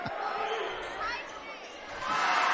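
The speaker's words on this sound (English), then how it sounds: "Noisy crowd. Both sides." Noisy crowd cheering from both sides of the gym at a high school boys basketball game between North Medford and South Medford, a steady dense roar that swells louder near the end, with an announcer talking over it.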